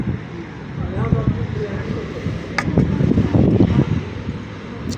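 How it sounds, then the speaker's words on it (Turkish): Strong cold wind blows outdoors on a chilly day, a steady broadband rush with gusty swells that grows rougher in the middle. Faint voices or movement mix in at times. "hava çok esiyor"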